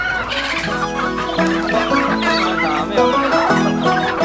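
Hens clucking steadily at close range, several birds overlapping in a busy, continuous chatter of layered clucks with no pauses.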